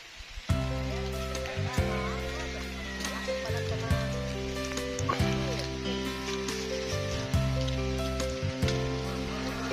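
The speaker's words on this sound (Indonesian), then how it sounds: "Hujan-hujan." Steady rain falls in a rural garden during a rambutan harvest in Sinjai, South Sulawesi, a dense continuous patter with strong low hum and tonal engine-like drone layered beneath, and voices briefly audible.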